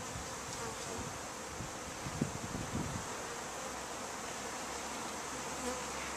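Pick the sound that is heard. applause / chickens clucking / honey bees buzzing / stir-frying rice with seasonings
honey bees buzzing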